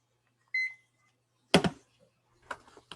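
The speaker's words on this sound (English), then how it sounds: "So let's set a timer again." A timer beeps in short electronic tones, one brief beep followed a second later by a louder burst and then two more chirps, close and clear in a quiet room without talk.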